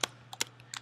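Several light, crisp clicks of a computer mouse come in a quick irregular sequence, close and faint in a quiet room.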